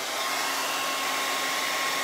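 A hair dryer blows steadily and loudly at close range, drying paint on a hand-painted pumpkin sign, with no talk.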